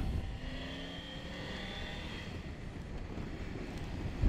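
A Triumph Tiger 900 rally version three-cylinder motorcycle engine idles and revs steadily with a rising harmonic whine, under constant wind noise, no voices.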